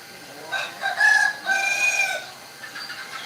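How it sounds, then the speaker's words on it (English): A local native rooster in the Philippines crows a full cock-a-doodle-doo, moderately near and alone in a quiet morning, followed by a fainter trailing call. "I've got a rooster over here. That's a local native rooster."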